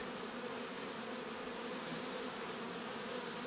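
Honey bees buzzing around a beehive frame, a steady, dense drone from many bees close by, continuous and without speech.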